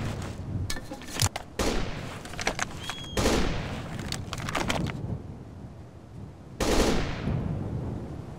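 Squad gunfire in the video game Operation Flashpoint: Dragon Rising, with bursts of rifle and machine-gun shots cracking in clusters, some sharp and close, others duller and more distant, separated by brief lulls.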